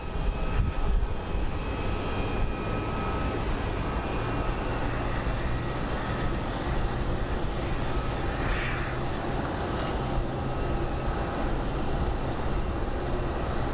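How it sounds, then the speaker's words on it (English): A United airliner on approach to land at Phoenix Sky Harbor, its engines giving a steady, loud broadband roar that holds evenly throughout with no voices. "let's go take a look at this United flight that's coming in"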